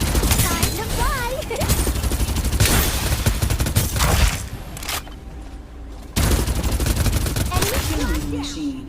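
Gunfire in the battle-royale video game Farlight 84, loud sustained automatic bursts that stop and resume, with game voice lines and other effects mixed in.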